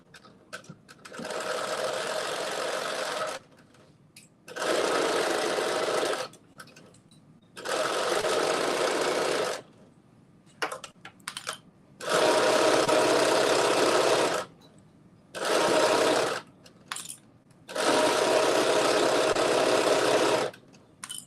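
A home sewing machine stitches the side seams of a fabric top in several steady bursts of rapid mechanical whirring, each run lasting a few seconds and separated by short pauses, loud and close with no talking.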